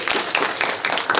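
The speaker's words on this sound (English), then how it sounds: "give a round of applause for your teachers" Applause from a school audience of middle school students in a library, a brief burst of dense, steady clapping heard close and moderately loud.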